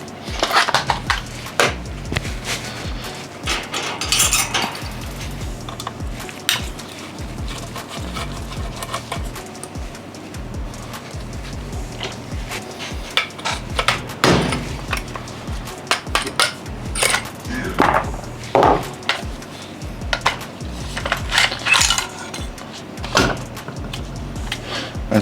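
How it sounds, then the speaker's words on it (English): Gel blaster taken apart by hand, upper and rear end removed from the gearbox, giving close plastic clicks, knocks and rattles that come irregularly with short pauses, louder bursts late on, no talking. "Start by taking off the upper and the rear end, and then that way we can get access to the gearbox itself."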